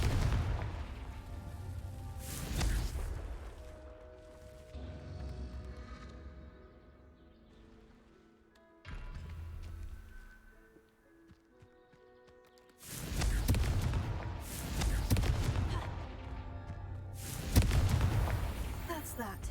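Confringo fire spell explosions in the video game Hogwarts Legacy, a series of heavy booms in separate clusters with quieter stretches between, fairly close, while a person talks now and then.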